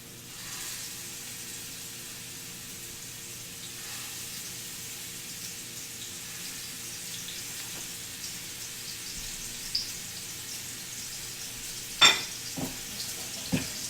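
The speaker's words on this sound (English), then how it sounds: "now that our pan is smoking hot, we'll add our meatballs and just sear them on both sides" Meatballs sear in a smoking-hot pan while making spaghetti and meatballs, giving a steady, even sizzle that continues throughout. Near the end come a few sharp clinks and taps of a utensil against the pan.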